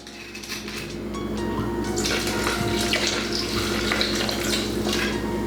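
Stella Rosa Berry wine and Sprite pour into a drink, a continuous splashing, fizzing stream that builds and holds steady at close range.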